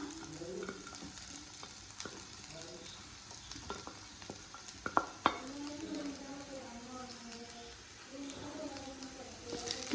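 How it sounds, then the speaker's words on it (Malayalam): Chicken fries with onions in a pan for chicken varavu: a steady close sizzle broken by stirring scrapes and a few sharp utensil knocks, while someone talks throughout. "നമുക്ക് ഇതിലേക്ക് വറുത്ത് വെച്ച് ചിക്കൻ ആഡ് ചെയ്യാം"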